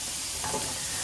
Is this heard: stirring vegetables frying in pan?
yes